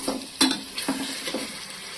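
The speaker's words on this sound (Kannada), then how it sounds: "ನಾನು ಏನಾದರೂ ಉಪ್ಪು ಹಾಕಿದ್ದೀನಿ, ಇದಕ್ಕೆ ಚೆನ್ನಾಗಿ ಫ್ರೈ ಆಗಲಿ ಅಂದ್ಬಿಟ್ಟು" Rice being fried and stirred in a pan with salt for veg biryani, with a few distinct scrapes and clinks of a spoon against the pan over a soft steady sizzle, close and alone.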